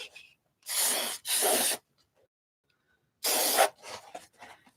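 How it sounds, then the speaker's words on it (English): Spray can giving light, short spray bursts onto a small box craft project: three hissing blasts, the first two close together, then a pause and a third, with faint handling noise after. "I guess I'll call that a light spray."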